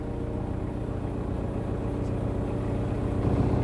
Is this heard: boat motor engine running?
yes